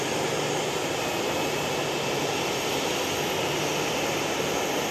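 Aircraft at Nagasaki Airport produce a constant, even broadband roar of jet engines, steady in level and unbroken for the whole stretch, with no voices.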